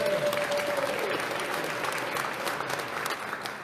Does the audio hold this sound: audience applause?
yes